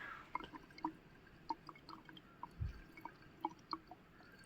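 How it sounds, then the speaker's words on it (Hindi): Slow, irregular water drips plink one at a time into a bottle, each a small hollow tap, with a faint low thump partway through and quiet surroundings. "इसमें बूंद बूंद पानी भर के आएगा।"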